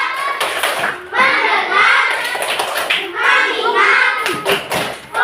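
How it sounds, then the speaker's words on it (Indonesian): A primary classroom of children does a rhythmic focus clap in a math lesson, several sharp hand claps and taps in quick pattern mixed with a teacher's and children's voices speaking over them. "Tepuk fokus."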